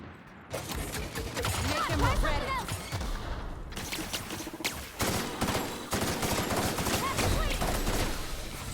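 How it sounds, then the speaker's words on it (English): In The Outer Worlds, rapid gunfire blasts at robots in repeated loud bursts over several seconds, with mechanical clanks between them and a player talking at points. "Let's go downstairs and shoot some robots in the head."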